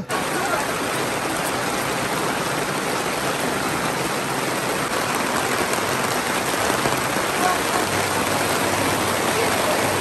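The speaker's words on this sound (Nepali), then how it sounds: "आज चाहिँ बिहानै पानी परिरहेको छ" Heavy morning rain pours onto a foggy hillside road, a dense, loud, unbroken hiss of falling water that stays constant from start to finish.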